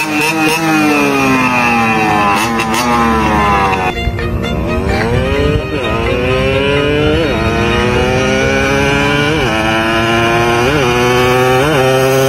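A two-stroke Raider motorcycle engine revs hard to high RPM, its loud buzzing whine climbing and falling through repeated throttle blips, close by and continuous with no one talking.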